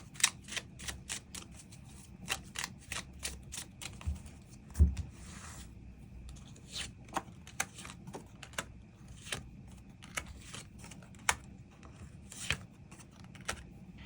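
Tarot cards being shuffled before an extra card is drawn: a long run of crisp, irregular clicks and slaps of cards, close and fairly quiet, with no talk.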